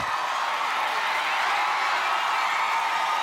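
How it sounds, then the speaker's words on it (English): A large arena crowd at an American Ninja Warrior finals event in Atlanta cheers and applauds a competitor in a steady, dense roar that holds throughout. "And the crowd showing her some love"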